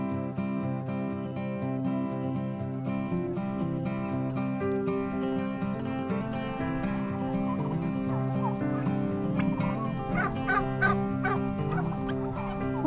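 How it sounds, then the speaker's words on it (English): A flock of turkeys gobbles repeatedly on a breezy farm, overlapping calls layered over soft guitar music, with the gobbling growing busier toward the end. "Farms where the turkeys and other animals roam."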